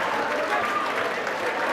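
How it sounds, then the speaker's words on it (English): A crowd at a boxing fight applauds after a split-decision win, a brief, moderately loud burst of clapping with some crowd noise mixed in. "A round of applause for Halls Electricals, Steve Hall, who sponsors this fight."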